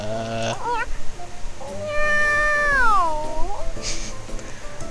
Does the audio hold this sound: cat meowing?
yes